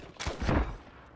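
A single gunshot sounds in a multiplayer shooter video game, a short close burst with a quick decaying tail, and no voice over it.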